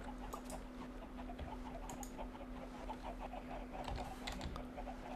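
Chickens softly cluck in the video game Minecraft. Faint, scattered clucks sound over quiet computer keyboard typing.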